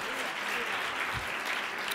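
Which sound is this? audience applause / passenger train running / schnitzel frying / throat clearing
audience applause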